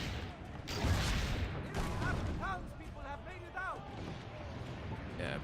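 Cannon fire booms in Assassin's Creed: Brotherhood, a few heavy blasts over continuous battle noise, with someone talking over much of it.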